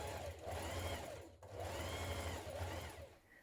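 A domestic sewing machine runs in two steady bursts while understitching a trouser pocket seam a few millimetres from the edge, a fast even whirr broken by a short pause.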